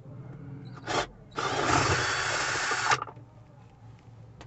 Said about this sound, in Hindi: तो हमने फर्स्ट वाला जो है बोल्ट उसको ढीला कर लिया